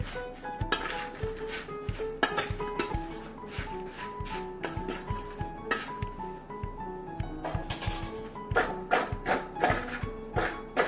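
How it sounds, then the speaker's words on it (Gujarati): Mango pieces are being mixed with turmeric and salt for pickle, with steady, repeated clattering knocks and scrapes of a utensil against the container, close and fairly loud. "હળદર અને મીઠું ઉમેર્યા પછી હવે આપણે મિક્સ કરી લઈએ"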